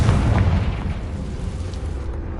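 Confringo fire-blast spell in the game Hogwarts Legacy, a heavy booming explosion that hits loud at once and then rumbles on as a low roar for a couple of seconds.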